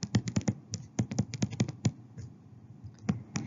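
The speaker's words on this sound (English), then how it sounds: "So we're going to type this problem in on the calculator." Calculator keys are pressed in quick bursts of sharp plastic clicks, several rapid taps, then a pause and a few more, close and clear.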